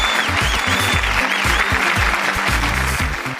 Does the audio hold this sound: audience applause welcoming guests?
yes